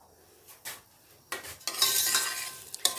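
Semolina stirred and roasted in ghee in a pan over low heat, giving soft scraping and sizzling strokes that build into a steady, brighter stir in the second half, with a few separate clinks near the start.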